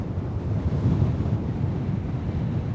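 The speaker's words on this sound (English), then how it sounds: "but a pretty strong headwind" Strong headwind buffeting a microphone on a golf course, a steady low rumbling roar with gusty swells lasting throughout, no voices.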